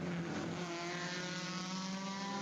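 Race cars running side by side under braking into turn 1 at Summit Point Raceway during the Jefferson 500, a steady loud engine drone heard from trackside with no voices.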